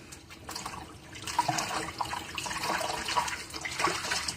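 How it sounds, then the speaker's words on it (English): Rinse water with dye draining from a sink or basin while dyeing a T-shirt, a steady gurgling, splashing flow heard up close, alone. "So I'm going to let that drain out now."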